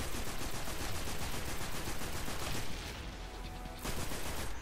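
Rapid automatic gunfire in Destiny 2 on PS4, loud rattling bursts that fire nonstop, dip briefly near the end, then pick up again.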